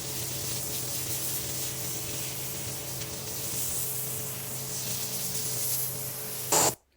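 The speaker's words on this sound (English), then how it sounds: "I'm now going to go ahead and blow him out so that he can be dry" A livestock blower drying a freshly washed calf gives a steady, loud rushing hiss of air that holds constant for several seconds, then cuts off abruptly near the end; no talk.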